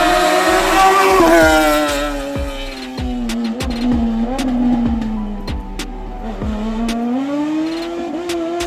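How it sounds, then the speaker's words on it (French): A Demoncar single-seater race car climbs the hill at the Course de côte du Diamant, its engine loud and close, revving hard, then pulling up steadily through repeated gear changes. "notre pilote revelant Alexis Dabrowski et sa monoplace Demoncar, joliment décorée."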